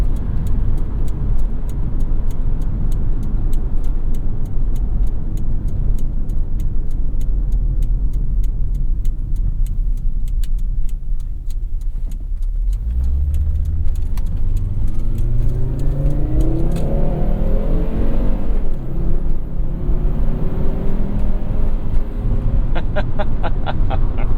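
A 1995 Volvo 850 T5-R wagon's turbocharged five-cylinder engine heard from inside while driving: a steady drone, then the engine revs rise and fall through the gears in loud sweeping pulls, with no talking.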